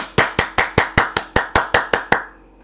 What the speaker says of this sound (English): Clap. Give God the praise.